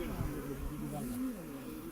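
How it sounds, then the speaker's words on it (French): Honeybees buzz at the hive in a close, continuous drone with wavering pitch, faint and steady for under two seconds. "Ça dégage d'abeilles."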